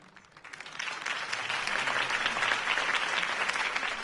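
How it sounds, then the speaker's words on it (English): Crowd applause in the Batman Telltale video game following Harvey Dent's campaign speech, swelling from a few claps into dense, sustained clapping that holds steady, full and slightly distant like a large rally crowd. "If only Mr. Wayne, my campaign's largest backer, could have heard that applause"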